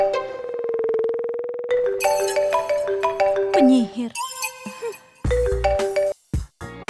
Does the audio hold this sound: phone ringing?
yes